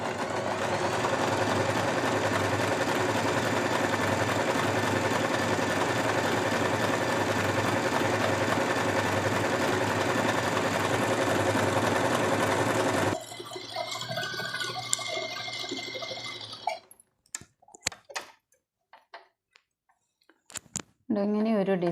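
A sewing machine runs steadily while stitching a decorative white-thread design onto plain fabric, whirring loudly and close for about thirteen seconds before stopping; sparse clicks and handling noises follow.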